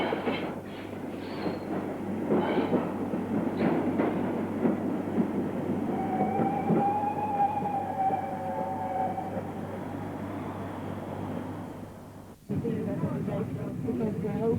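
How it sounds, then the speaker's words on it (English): Restored steam locomotive Gothenburg double-heading a six-coach passenger train away from Bolton Street Station, a steady near rumble of running gear with a faint drawn-out whistle-like tone, voices audible over it, ending in an abrupt cut to a different sound. "Double-heading 6 coach loads of jubilant passengers, Ian Riley's beautifully restored locomotive"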